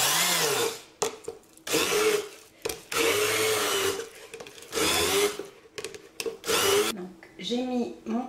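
A kitchen blender purees cooked strawberry coulis for a fraisier cake in several loud pulsed bursts separated by short pauses, with a brief voice heard near the end.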